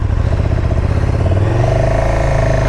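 A 2019 KTM 1290 Super Duke R motorcycle accelerates hard, its loud throbbing engine note rising in pitch as it revs up close, with no talking.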